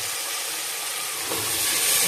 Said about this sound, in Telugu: ఈ ముక్కలు వేసి బాగా కొద్దిసేపు ఆయిల్లో వేగిద్దాం.